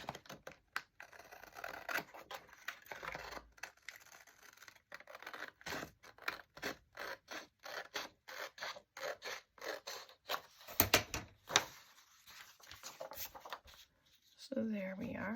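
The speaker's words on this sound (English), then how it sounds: "Just gonna do some trimming." Fiskars scissors trim paper in a run of quick crisp snips, close and distinct, repeating irregularly with short pauses and some rustling of the sheet between cuts.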